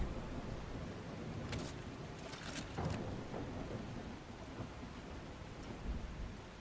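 Steady rain falls throughout a stormy scene in the video game Last Caretaker, with a rolling thunder rumble building near the middle and a low boom toward the end, no voices present.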